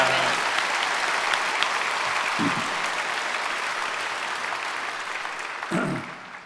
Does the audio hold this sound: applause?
yes